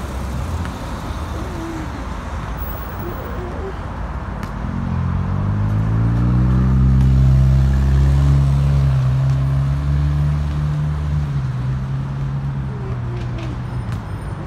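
An M15 city bus drives along a 25 mph local truck route, its engine a low droning rumble that swells to a loud peak midway and then eases off, with steady road noise throughout.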